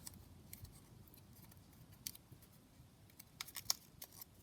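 Scissors snip paper flower petals in a scatter of faint, crisp, close cuts, irregularly spaced over a quiet background.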